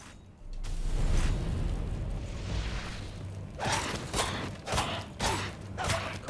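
Enemies blow up in the action role-playing game Lords of the Fallen: a low rumbling swell of blast noise builds and holds, followed by several sharp, bright bursts and crackling impacts in close succession.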